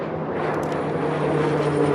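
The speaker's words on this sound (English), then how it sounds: "You can hear some of our planes overhead" Propeller planes passing overhead outdoors along a nature boardwalk, a steady broad engine drone with a low hum, moderately loud and continuous for the whole stretch, with no talking.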